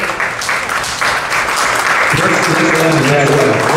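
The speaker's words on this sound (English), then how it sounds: "Let's give a round of applause to our colleague from Barbados" A room of attendees at a cybersecurity skills workshop claps loudly and continuously, with a voice speaking over the applause in the latter half.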